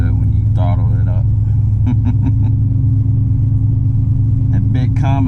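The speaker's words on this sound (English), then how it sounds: "She sounds so good when you throttle it up." A big Cummins engine in a truck gives a loud, constant low rumble that fills the cab, with someone talking over the engine noise.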